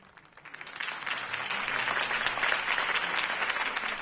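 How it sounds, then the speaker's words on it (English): A crowd applauds after a campaign speech in the video game Batman: The Telltale Series, the clapping rising from quiet to a steady, moderately loud patter that holds throughout. "If only Mr. Wayne, my campaign's largest backer, could have heard that applause"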